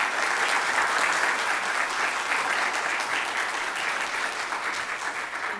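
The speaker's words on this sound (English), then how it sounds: "So can we give Dr. Jelks another round of applause?" An audience claps continuously for a guest speaker at a Grand Rounds talk, a dense, even wash of applause holding steady throughout.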